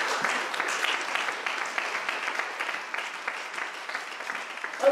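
A church congregation applauding in praise of the Lord, with steady, dense clapping that continues for the whole stretch at a fairly close, even level.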